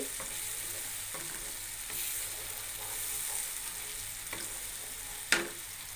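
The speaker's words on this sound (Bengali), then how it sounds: "মশলাগুলো দিয়ে দিলাম এটাকে সুন্দর করে কষিয়ে নেব যতক্ষণ না আদা রসুনের গন্ধটা যাচ্ছে" Spices and ginger-garlic paste sizzle in hot oil as they are stirred steadily, a constant close frying hiss broken by light scraping strokes and one sharp clink near the end.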